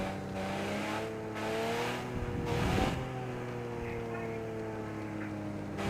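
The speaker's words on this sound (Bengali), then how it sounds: "গাড়ি যখন জিরো রেঞ্জ থেকে ফুল রেঞ্জ করতেছি, সাউন্ডটা জোস লাগতেছে, একদম রিয়েল" A car engine in a realistic driving video game revs from idle to full range and back, with steady rising and falling tones in a smooth continuous drone.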